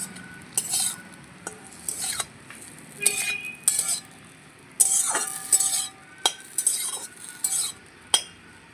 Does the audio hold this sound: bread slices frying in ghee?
yes